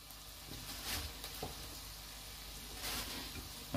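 Squirrel pieces sizzling in a pot with bacon and onions, a quiet, even sizzle with a few soft bursts of louder hissing and faint clatters.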